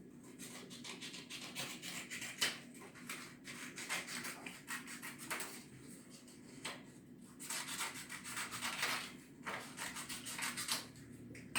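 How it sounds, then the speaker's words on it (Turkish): Paper strips cut by hand, heard as a close series of repeated scratchy cutting strokes with short pauses between them. "Evet şeritleri keseceğim."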